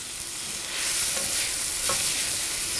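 A pound of mushrooms sautéing in plenty of olive oil, a dense, even hiss of frying close by that swells slightly partway through, with a couple of faint utensil touches and no talking.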